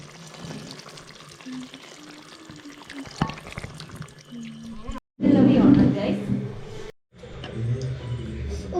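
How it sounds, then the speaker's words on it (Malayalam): Coconut milk poured into crab curry frying in a pan, with a louder burst of liquid and sizzle midway, under and between stretches of talk. "ഇപ്പോൾ നമ്മൾ തേങ്ങാപ്പാൽ ഒഴിക്കുകയാണ്"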